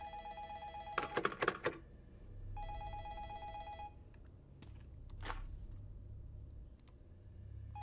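Telephone ringing in the Taiwanese horror game Incantation, two bursts of electronic bell rings separated by a pause, over a low ambient drone with a few clicks.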